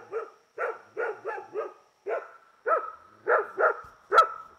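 Dog barking in a driveway, about ten sharp barks in uneven bursts, fairly close and alone without talk.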